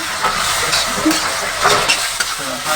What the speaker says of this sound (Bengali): চিকেনটি ভালো করে পেঁয়াজের মধ্যে ভাজবো